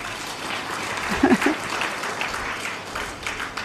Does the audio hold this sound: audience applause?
yes